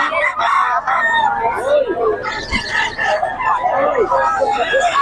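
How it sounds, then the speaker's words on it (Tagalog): Roosters crow repeatedly nearby on a gamefowl farm in Nueva Ecija, Philippines, over a busy background of chatter and clucking chickens. "Yan, napakaraming manok nito ni Boss Rod."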